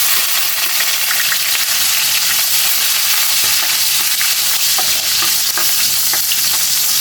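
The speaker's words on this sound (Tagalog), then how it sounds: "gigisa muna natin yung mga sangkap natin. Tara, nagpapainit na lang tayo ng mantika." Garlic sizzles loudly in hot cooking oil while being stirred in a pan, a steady, dense crackle and hiss with faint spatula scrapes, close and continuous throughout.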